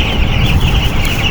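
Chickens on a small farm cluck close by in a short burst over a steady hiss, with no one speaking.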